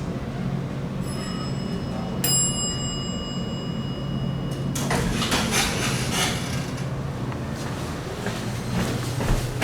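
A bright electronic elevator arrival chime rings out clearly over a low mechanical hum of a Dover traditional traction elevator, followed by rumbling and clattering of machinery, including bad wheels.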